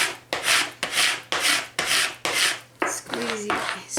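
A squeegee rubs vinyl down onto a Dollar Tree plate in repeated firm scraping strokes, about eight passes close up with a steady rhythm, and no one talks over them.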